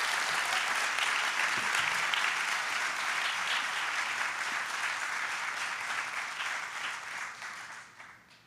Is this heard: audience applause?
yes